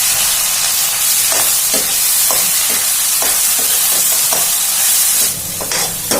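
Cumin and an onion, garlic and green chili masala sizzle loudly in hot oil for rajma, a dense frying hiss broken by repeated stirring scrapes and clatters, close and with no talking.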